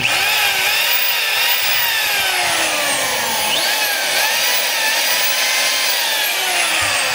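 A DeWalt D25144 rotary hammer drill runs continuously at high speed with a loud mechanical whine, its pitch dipping and rising a few times as the motor revs.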